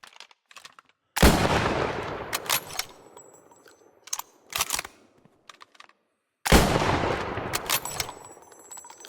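Single-shot rifle fire in the video game Squad 44, with two loud, sharp reports about five seconds apart, each ringing out in a long echoing tail, and a few quieter clicks and bolt-like clatters between them.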